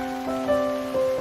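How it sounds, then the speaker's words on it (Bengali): Rain patters steadily on a tin roof, a soft, even hiss blended with sustained, gentle musical tones throughout the short stretch. "টিনের চালে বৃষ্টির রিমঝিম শব্দ"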